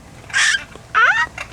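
A bird at a zoo bird exhibit gives two short, loud, squawking calls close by, followed by a fainter third note, with no talk over it.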